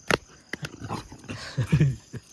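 A dog out in a village yard gives a few short, faint barks and whimpers, scattered and distant, with low background murmur.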